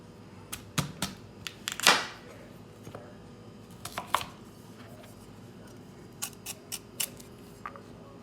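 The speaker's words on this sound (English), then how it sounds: "I'm gonna cut that string out of my cassava, that stringy middle part." A knife cutting cassava held in the hand to remove its stringy middle, giving a scatter of sharp, close, dry clicks and scrapes at an irregular pace in a quiet room.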